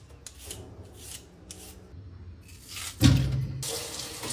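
After soft handling noises, a kitchen tap suddenly gushes to fill a bowl for soaking peeled Chinese yam. The water runs loud and close for the last second or so.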